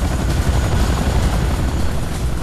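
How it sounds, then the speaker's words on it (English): Attack helicopter in the Command & Conquer: Renegade video game, a loud steady rotor and engine roar that fills the whole stretch without pause and with no talk over it. "Attack, helicopter!"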